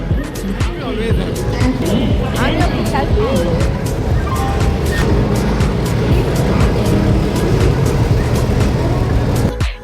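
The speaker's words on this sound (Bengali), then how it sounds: "এই যে আমাদের ট্রেন আসছে" The 12311 Howrah–Kalka Netaji Express rumbles into a station, a loud, continuous roar studded with sharp clanks and rattles, while people talk nearby.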